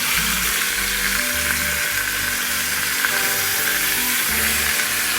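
Pork chops browning in an 18/10 stainless steel pot of a Secura 6-in-1 electric pressure cooker give a steady, close sizzle and fry throughout, with faint scraping and no talk.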